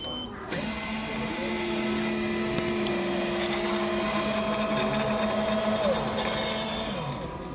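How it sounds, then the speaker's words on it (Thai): A coffee machine at a hotel breakfast buffet whirs and hums steadily with a sustained mechanical drone after a click as it dispenses a drink nearby, no talking. "เครื่องชงกาแฟครับ จะทานกาแฟอะไรก็กดได้นะฮะ"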